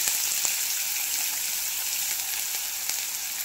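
Cumin, curry leaves and onion hit hot oil and fry with a loud, steady, close hiss and sizzle, a few faint crackles popping through without a break and no voices.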